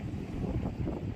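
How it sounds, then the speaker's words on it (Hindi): Strong, cold mountain wind at minus eleven degrees on a road in the Mustang region of Nepal, a steady low roar buffeting the microphone with no pauses and no speech. "गजब ठंडा लग रहा है, बहुत ज्यादा तेज हवा है।"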